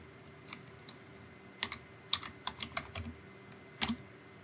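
Irregular bursts of crisp key clicks as terminal commands are typed on a computer keyboard, close and fairly quiet, with short pauses between keystroke runs and no talking.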